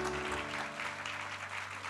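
Congregation clapping during a church worship service, steady applause over a sustained organ or keyboard chord that holds underneath throughout.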